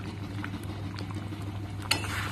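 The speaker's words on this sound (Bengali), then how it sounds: "এক মিনিটের জন্য ঢাকনা দিয়ে রান্না করে নেব লো ফ্লেমে" Moong dal with bitter gourd and bottle gourd simmering under a lid on a low flame, giving a steady soft bubbling hiss with faint pops and one small clink near the end.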